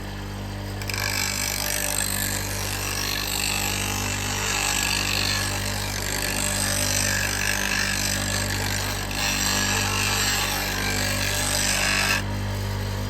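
Steady, loud grinding of a woodturning tool on a homemade sharpening system as the relief bevel is ground, a continuous abrasive hiss over a low motor hum running almost without break.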